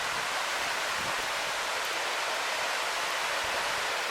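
Waterfall on Siouxon Creek in a forest, a steady broad roar of falling water, dense and continuous at close range, with no talk.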